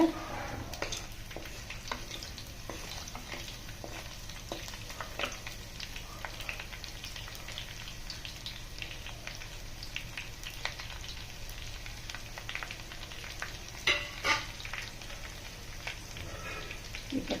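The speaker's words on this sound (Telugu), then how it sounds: "లసూన్ వేసానండి ఆవాలు జీలకర్ర సరుసు జీర" Garlic, mustard seeds and cumin sizzling in hot oil, a faint continuous crackle with scattered sharp pops and a few stirring clatters, no voices.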